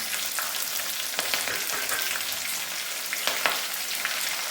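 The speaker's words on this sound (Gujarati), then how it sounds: "ત્યારબાદ અડધો બાઉલ જેટલા મરચાં નાખીશું" Green chillies fry in hot oil with curry leaves and cumin-coriander, making a dense continuous sizzle with occasional louder crackles and spatters, close and unbroken, no one talking.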